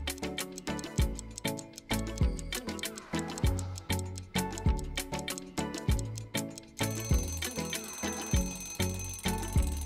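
A ticking countdown effect for a 10-second puzzle, steady evenly spaced ticks set over a bright repeating musical pattern with a chime-like alarm tone, loud and continuous, no voices.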